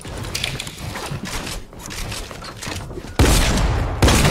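Scattered gunfire in a shooter video game, a string of shots crackling at a distance with a few louder close bursts near the end, set against continuous game ambience.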